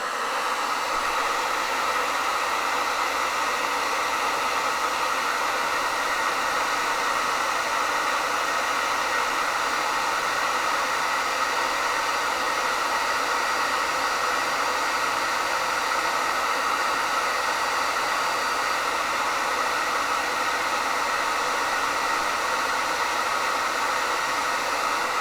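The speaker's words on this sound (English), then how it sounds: "I'm going to hit it with my hair dryer" A steady, loud hair dryer blows continuously with an even, unbroken whoosh of air from start to finish, with no voices.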